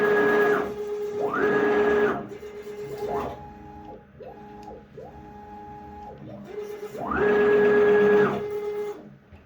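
The axes of a custom CNC router move in several bursts. The stepper motors give off pitched, whining tones that rise and fall as each move starts and stops, with louder passages near the beginning and the end.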